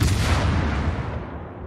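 Heavy ship cannon salvo from a World of Warships naval battle: one dense, booming blast that fills the clip and rolls off slowly, loud and close, with no talk.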